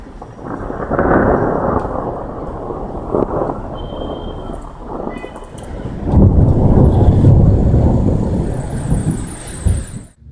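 Thunder from a thunderstorm in the Somme rolls in loud, long rumbling waves, swelling again after a brief lull and then slowly fading, with wind buffeting the microphone throughout.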